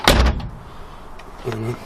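A 1969 Ford Capri door, fitted with a new handle, slams shut with a loud, close thunk, followed by a brief fainter knock about a second later.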